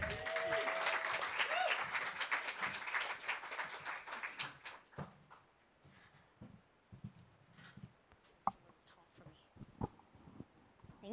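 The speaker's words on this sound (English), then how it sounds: "So can I get a round of applause, please?" An audience at an evening literary reading bursts into applause that is dense and loud for about four seconds, then thins into scattered claps and shuffling with some speech.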